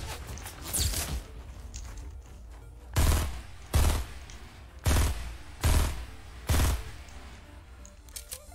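Gunfire from a gun in a video game ripping out in four or five loud, separate bursts over roughly six seconds, with quieter shots and footsteps before them.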